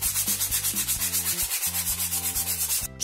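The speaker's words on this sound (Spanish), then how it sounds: "Le pasaré una lija de grano fino a toda la superficie de la caja." A wooden box is hand-sanded with fine-grit sandpaper in quick, even back-and-forth strokes that form a steady rhythmic rasp, close and clear, over soft background music.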